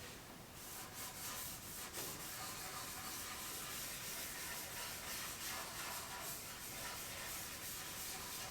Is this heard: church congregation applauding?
no